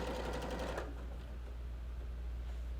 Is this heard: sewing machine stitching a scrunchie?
yes